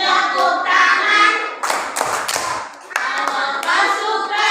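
Children in a first-grade class clapping hands along to the sung Indonesian song "Kalau kau suka hati", close rhythmic claps mixed with young voices singing throughout.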